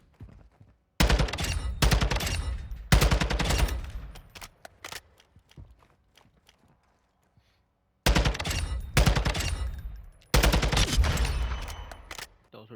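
Gunfire from Modern Warfare 2 crackles in dense bursts of rapid shots, a long one at the start, a short gap, another burst, near silence for a few seconds, then two more loud volleys near the end.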